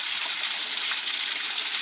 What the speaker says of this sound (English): spring water running in Ndoreke Ohafia called TTT, the land of peace